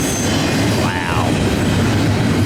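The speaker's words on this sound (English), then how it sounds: "It's a huge train." A long Norfolk Southern intermodal freight train rolls steadily past close by, a loud continuous rumble of wheels and cars with a brief rising and falling wheel squeal near the middle.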